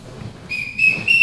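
A coach's whistle blown at ringside during a wrestling show, giving three rising shrill blasts in quick succession, each louder than the last, over a low crowd murmur.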